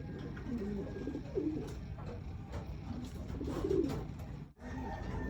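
Pigeons cooing at a loft, soft repeated low coos over steady background noise, with a brief dip near the end.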